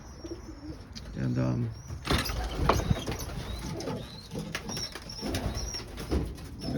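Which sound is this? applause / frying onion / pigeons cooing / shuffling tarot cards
pigeons cooing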